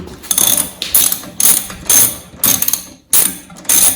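A ratchet loosening the screw on the bottom of a snowblower carburetor: quick bursts of close, sharp mechanical clicking, about seven of them in a row, separated by short pauses.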